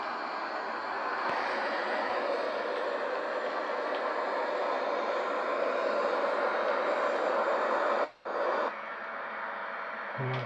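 Steady roaring jet engine of a Royal Air Force Eurofighter Typhoon in a flight simulator, a loud continuous broadband rush that briefly cuts out near the end before resuming.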